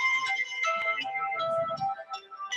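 A mobile phone ringtone goes off during an online palliative care webinar, a steady melodic tone pattern at moderate level repeating through the short stretch, with faint background noise and no speech.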